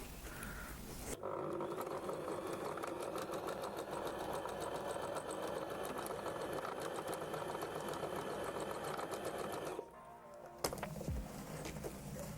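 A sewing machine stitches trousers in a steady, loud, continuous whir for about nine seconds, then stops briefly before a short burst restarts and ends, with no talking over it.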